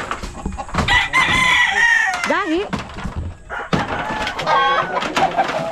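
Chickens cluck loudly and close by while a rooster crows partway through, with a brief spoken word among the birds.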